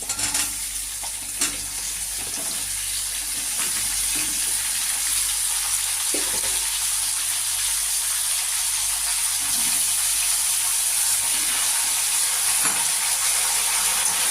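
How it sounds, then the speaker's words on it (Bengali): Mixed vegetables with potatoes fry in a pan for a hilsa fish head curry, a steady hiss of sizzling with a few spatula scrapes early on, then an even, unbroken fry, no voices. "সবজিগুলো দিয়ে এবারে নাড়তে থাকবো"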